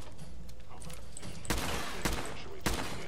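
Gunfire in the video game Fallout 4: a few loud, sharp shots amid a busy game soundscape, with a voice talking under the action.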